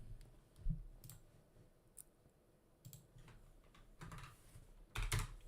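Sparse keyboard typing of notes, with irregular soft clicks and a few louder clustered keystrokes near the end, quiet and close with no speech.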